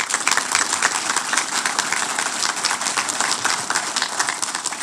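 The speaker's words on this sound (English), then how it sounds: "Let's give her a round of applause." A steady, dense round of applause from an audience at a congressional law enforcement awards ceremony, many hands clapping continuously and evenly at a fairly loud level with no voices standing out.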